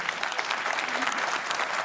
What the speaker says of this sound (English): So a big round of applause for my team.